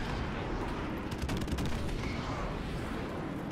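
Airstrike explosions in Call of Duty: Modern Warfare Remastered, a continuous rolling barrage of blasts and rapid cracks, fairly distant and steady for the whole stretch.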